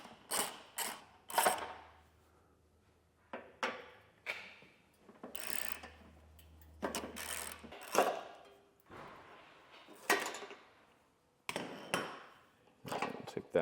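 Bolts are worked loose from a trailer hitch mounting bracket during a Curt Class III hitch installation on a 2024 Cadillac XT6, with repeated short ratcheting bursts and mechanical clicks separated by brief pauses, close and fairly quiet.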